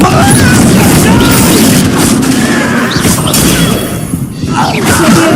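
A Confringo spell blast in the Hogwarts Legacy video game: a loud, dense roar of booming, crashing energy that fills the whole clip, dipping briefly near the end before surging again, with no voices heard.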